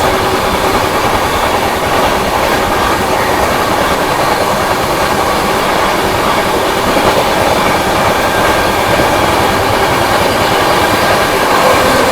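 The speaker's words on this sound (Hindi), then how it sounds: "Overtaking bye Shri Dham express." The Shri Dham Express, running between Jabalpur and Hazrat Nizamuddin, overtakes with a loud, steady roar of rushing wagons and rolling wheels, sustained and close throughout with no voices.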